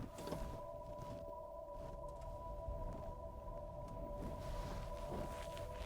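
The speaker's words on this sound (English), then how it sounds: "is the sound that my car makes when I'm backing up" A car's reversing warning holds a steady electronic tone at one pitch throughout, faint and slightly distant, over low background rumble, with no voices.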